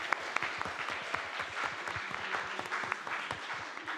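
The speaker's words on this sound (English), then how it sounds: "Round of applause." Scattered applause from an audience after a group game at a machine-learning talk, individual claps distinct and fairly quiet, continuing steadily for a few seconds.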